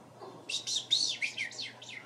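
A meadowlark sings a run of bright, rapid whistled phrases, clear and fairly close, over a low steady background hum.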